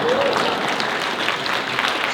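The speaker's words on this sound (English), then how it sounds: "please, a little applause" Audience applause at an education summit, a steady wash of clapping from a crowd filling the whole stretch at an even level.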